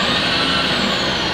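A milling machine table travels on rapid feed while milling an exhaust manifold, giving a loud, steady mechanical whir with a slowly shifting whine across a brief moment.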